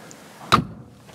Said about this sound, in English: give you an idea of what it sounds like when you shut the door